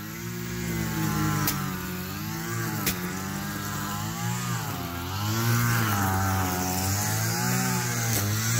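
A brush cutter fitted with trimmer wire clears overgrown land, its small engine whining steadily and rising and falling in pitch as it bites into growth, loud and close with no talk.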